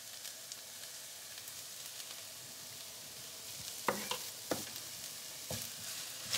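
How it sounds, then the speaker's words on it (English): Tomato paste sizzles and toasts in a hot pan with steady frying hiss, broken by a few sharp scrapes as it is stirred. "Now we're gonna add in our tomato paste and let that toast up for about a minute."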